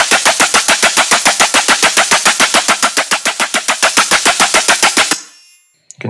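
Machine-gun style dubstep bass synth built in Serum, a rapid, loud stream of evenly spaced stuttering bursts for about five seconds, then cutting off abruptly.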